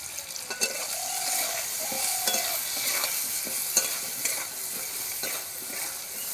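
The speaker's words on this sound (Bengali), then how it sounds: "এবার ভালো করে একটু কষিয়ে নেব।" Raw mango is sautéed in a pan with turmeric, chili powder and salt, with a soft steady sizzle under repeated scraping and stirring strokes of a spatula against the pan, close and moderately loud.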